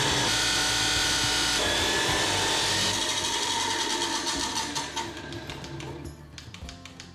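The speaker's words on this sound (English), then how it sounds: "we got the chop saw here. This should make really quick work of this cut." A chop saw slices through a thick metal piece during work on a Jeep Gladiator, giving a loud, steady grinding whine that fades partway through as the blade spins down.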